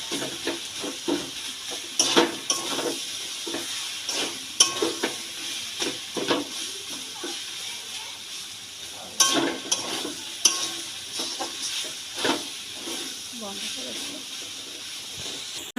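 Mixed leafy greens hiss and sizzle as they are fried in a pan, with repeated scraping stirs in an irregular rhythm throughout, close and fairly loud, under occasional speech.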